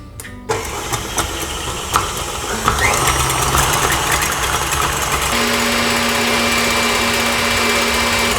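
An electric mixer whips double cream and caster sugar toward stiff peaks, starting with a few clunks and then settling into a loud, continuous motor whir.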